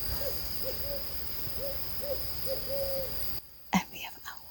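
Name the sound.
owls hooting at night by a lake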